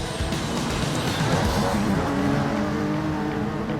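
Race cars cornering in the video game GT Sport, a continuous loud engine roar with tires scrubbing and squealing through the bend, steady and close without a break.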